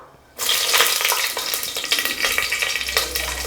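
Whole spices and green chillies hit hot oil for egg biryani, bursting into a loud, steady sizzle after a brief quiet start, crackling and spitting close up with a low hum underneath.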